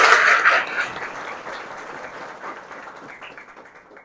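Applause from an audience at an award felicitation ceremony, starting loud and dense, then thinning and fading out over about four seconds, with no speech on top.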